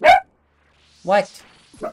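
A pet dog gives a single sharp bark near the start, followed by a person's brief questioning voice and another short voiced sound, with quiet between.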